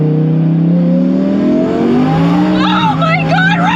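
A turbocharged Lamborghini with straight-pipe exhaust revs loudly up close, its engine note climbing steadily for a few seconds before excited voices break in over the sustained roar.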